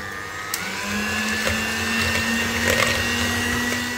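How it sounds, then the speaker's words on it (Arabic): An electric mixer whirs steadily for about four seconds as it beats apple cinnamon cake batter, a constant motor hum that starts with a click and carries faint scraping against the bowl, with no talking. "هلا رح ابلش اضرب الخليط اللي عندي"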